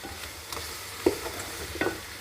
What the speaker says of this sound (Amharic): ይሄንን እየከፈትን አንድ 10 ደቂቃ እንደዚህ እናቁላለዋለን።